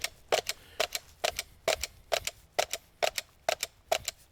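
Glock 45 pistol slide racked one-handed against a holster, heard as a string of about nine sharp, close mechanical clacks in a steady rhythm, each one a quick double snap.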